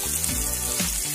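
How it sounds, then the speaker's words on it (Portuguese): Chopped small onion sizzles in a little oil in a pan, a steady close crackling hiss with faint bubbling and no voices. "Numa panela eu coloquei um pouquinho de óleo, uma cebola pequena picada,"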